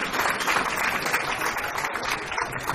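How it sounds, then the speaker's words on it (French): A crowd at a school awards ceremony gives the teachers a hearty round of applause, a thick steady wash of clapping from many hands that fills the whole stretch without speech. "Je voudrais une grosse salve d'applaudissements à l'intention de ces vaillants enseignants."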